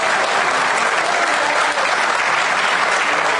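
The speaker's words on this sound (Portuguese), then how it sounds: "se é para aplaudir, é para Jesus, então vai com vontade mesmo" Loud, sustained applause from a large church congregation during a worship service, dense and steady clapping filling the whole moment without a break.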